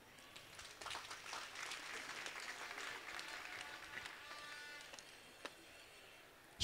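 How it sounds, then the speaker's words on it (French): Faint, distant applause from a congregation at a Catholic bishop's consecration and installation in Tshilomba diocese, scattered clapping with crowd murmur, thinning out before a sudden loud bump at the end. "Je vous prie d'applaudir."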